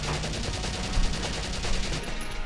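Rifles return fire in the Valkyria Chronicles video game, a sustained stream of rapid, evenly spaced gunshots with a couple of heavier impacts, loud and uninterrupted by speech.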